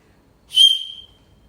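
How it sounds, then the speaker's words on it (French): One short, shrill whistle blast, clear and close, rising sharply and fading within a second against near silence. "C'est un sifflet."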